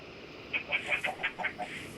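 Fighting roosters kept as gamecocks cluck softly before feeding, a quick run of about seven short, quiet clucks over low background noise.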